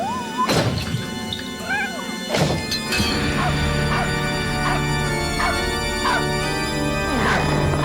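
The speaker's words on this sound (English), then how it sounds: "bad dog" A dog named Mitzi barks and yips repeatedly indoors, mixed with thumps and crashing clatter as things get knocked around, with a steady hum underneath.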